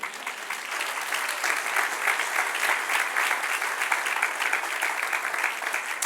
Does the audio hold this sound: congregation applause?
yes